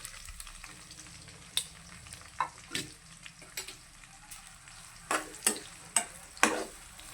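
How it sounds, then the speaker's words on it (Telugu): Onion pieces fry in a pan for raw banana curry, a soft sizzle broken by scattered sharp clicks and scrapes of stirring. "ఉల్లిపాయ దోరగా ఏగిపోయింది"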